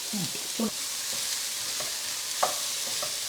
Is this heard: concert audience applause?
no